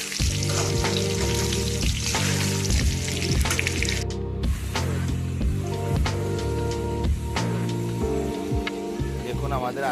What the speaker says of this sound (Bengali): দেখুন, আমাদের আলু ভাজা হয়ে গেছে।